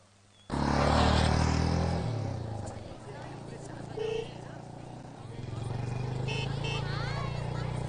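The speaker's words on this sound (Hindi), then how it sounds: "बाइक रोक दो। अरे बाइक रोक ना।" Motorcycle being ridden on a road, a loud engine roar that rises sharply then settles into a steady drone, with voices talking over it.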